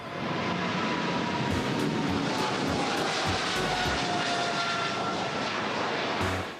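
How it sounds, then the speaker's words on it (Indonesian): A toy Indonesian police airplane gives off a continuous, loud electronic engine roar with a jet-like rushing quality, holding steady throughout before cutting off at the end. "Widih, yang ini pesawat polisi Indonesia."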